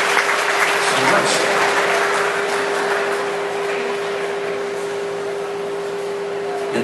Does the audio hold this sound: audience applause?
yes